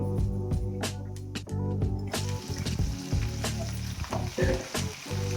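Green chillies fry in a pan of browning ingredients for upma, a loud, continuous sizzle close up, punctuated by scraping stirs and spatters.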